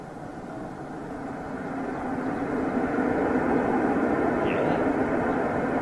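British Airways Airbus A330 jet with General Electric CF6 engines at Gatwick Airport, a steady broadband roar that swells gradually and holds loud and continuous, heard from the ground without talk.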